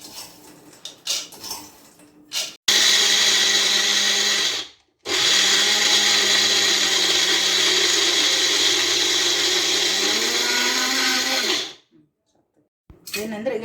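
Roasted peanuts spun in a kitchen mixer grinder: several loud, sustained whirring bursts with short pauses between them, the motor pitch shifting partway through, and some brief talk and clatter before the first run.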